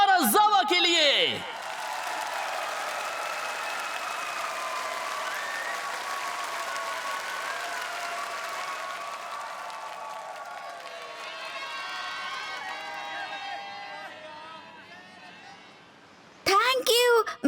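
A studio audience claps and cheers for the humanoid HumaGear Karazawa on a stage show in Kamen Rider Zero-One, sustained applause that swells and then fades, with a voice briefly heard at the start and end.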